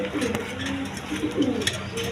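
Bolder pigeons coo in low, rolling calls close by, with other birds and faint background noise around them.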